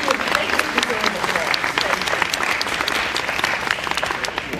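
A room full of people at a gubernatorial candidates forum applauds steadily, a dense, loud patter of clapping that holds without letup.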